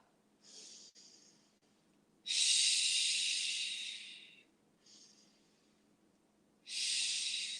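A big, forceful exhale during a yoga breathing sequence, heard as loud breathy hisses: softer breaths alternate with two long, strong exhales, close to the microphone with no talking.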